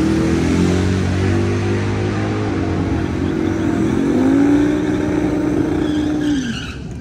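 Nitrous-fed LS-swapped Mazda Miata at a drag strip, a loud sustained engine roar with rising pitch and tire squeal as it launches and pulls away, fading at the end.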